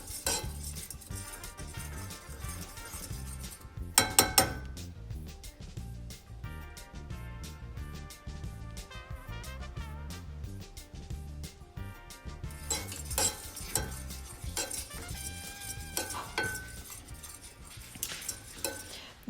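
A mini whisk stirs teriyaki sauce in a pan, giving quiet metallic clinks and scraping that swell in two busier stretches, with faint sizzling underneath.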